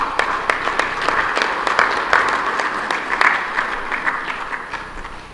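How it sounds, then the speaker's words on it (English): Delegates at a joint summit of heads of state and government applaud the co-chairpersons, a moderate hall-wide clapping with distinct sharp claps standing out, steady throughout and gradually easing. "May I please request that we have 2 rounds of applause for our co-chairpersons for those statements."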